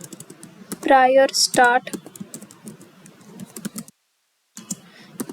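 Computer keyboard typing while a formula is entered in Power BI: a run of light, quick key clicks under a man's steady spoken explanation, with a short pause near the end.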